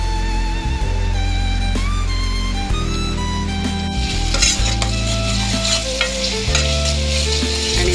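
Mashed tomatoes fry in hot oil in a pan and are stirred steadily, giving a continuous close sizzle with scraping strokes, all under a loud, steady layer of background music.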